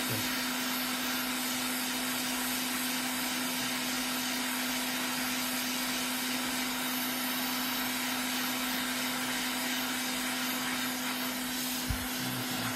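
A hot air rework tool blows a steady, continuous stream of heat onto a PlayStation 5 circuit board with no power, producing a loud, unbroken airy hiss with a constant fan hum throughout.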